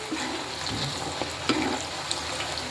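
Potato snacks frying in hot oil until light and crispy: a steady crackling sizzle with small pops and occasional stirring clinks, close and moderately loud, with no talking.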